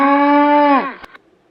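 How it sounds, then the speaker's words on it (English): A cow gives a single long, loud moo, steady and strongly voiced for most of a second before its pitch sags and the call breaks off. A short click follows, then near silence. "Cow says moo moo."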